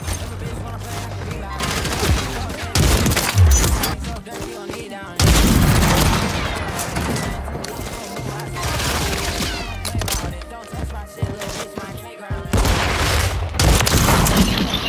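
Explosions and heavy gunfire from a DNA bomb killstreak in a sniper-only shooter video game, with repeated booms and rapid bursts throughout, and players talking over the game action.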